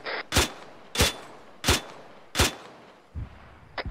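Video game gunfire rounds, four loud evenly spaced shots about every 0.7 seconds, followed by a softer thump and a final shot, heard alone with no talking.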